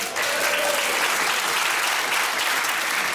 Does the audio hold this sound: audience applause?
yes